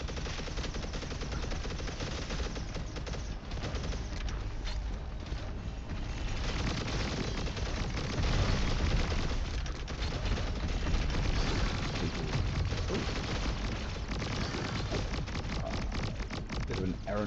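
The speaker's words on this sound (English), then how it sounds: "I want my missile shooting machine gun" Missile-shooting machine gun in the video game XOCIETY fires in a dense, unbroken barrage, loud and close throughout, with rapid overlapping shots and blasts blending into a constant roar.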